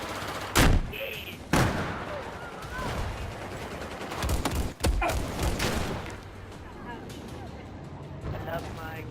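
Gunfire in the video game Battlefield 4, a few sharp loud shots among bursts of rattling fire and mechanical clatter, with players talking over the action.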